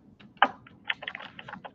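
A short burst of typing on a computer keyboard, one louder keystroke followed by a quick run of lighter taps, close but soft, with no voices.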